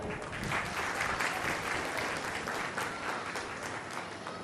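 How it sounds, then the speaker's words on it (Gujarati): Sustained, dense audience applause at a community gathering in a hall, loud and even throughout with no speech over it. "વધાવી લઈએ જોરદાર તાળીઓના નાદ સાથે"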